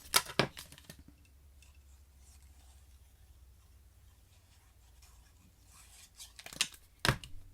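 Scissors snipping slips of paper for a pop-up bandstand card, a few quick snips near the start and a couple of sharp cuts near the end, close and quiet with a hush between.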